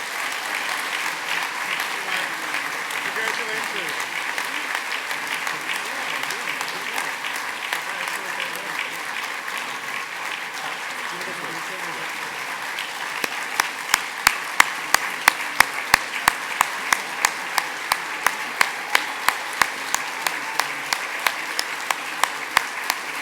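Sustained applause from a standing audience at an awards ceremony honoring a television veteran, a dense even wash of many hands that turns into sharper, rhythmic unison clapping toward the end.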